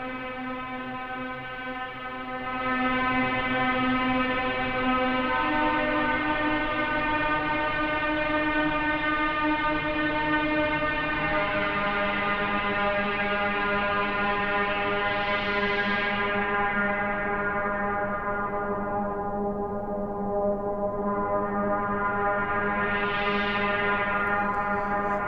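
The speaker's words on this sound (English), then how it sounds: "I'm using an LFO to make it strum" Ambience-machine string pluck strummed by an LFO, a sustained droning chord with rich overtones that swells and fades in slow sweeps, steady and fairly loud throughout with no talk.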